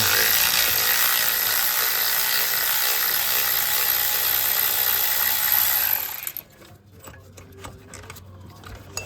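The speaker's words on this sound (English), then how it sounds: "There's a lower compressor bolt here we got to hit next." A ratchet works on a lower compressor bolt of a Saab 9-3 in a continuous, loud, fast clicking whir for about six seconds, then stops, leaving faint scattered clicks and handling noises.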